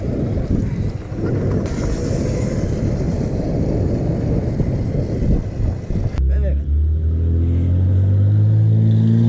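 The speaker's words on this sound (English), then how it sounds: "That sounds like a misfire engine." Dirt bike engine on a street with a rough, uneven misfiring roar under wind buffeting, loud and close, then dropping to a lower rumbling idle in the last few seconds; a voice is heard.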